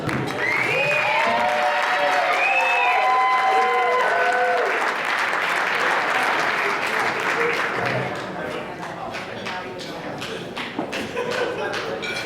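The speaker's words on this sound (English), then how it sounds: "Ladies and gentlemen, once again, a big round of applause, please, for Bret and Shawn." Wedding guests applaud two best men at a reception, a dense burst of clapping with some cheering that thins and fades after several seconds, a voice speaking over the start.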